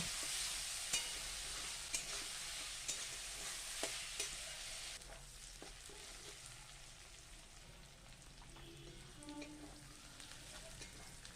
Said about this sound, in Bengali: পেঁয়াজটা দিয়ে ভালোভাবে লাল লাল করে আমি ভেজে নেব।